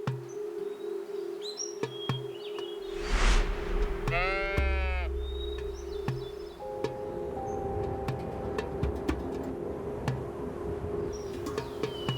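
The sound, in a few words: bighorn sheep bleating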